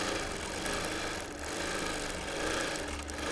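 A sewing machine free-motion quilting a Christmas table runner through thick fabric, a loud, fast, steady mechanical stitching hum with a slight rise and fall in pace, close up and with no voices.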